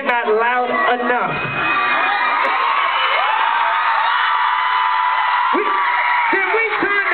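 A large concert crowd at a Six Flags show cheers and whoops loudly and continuously, a sustained roar of yells with a voice heard briefly at the start.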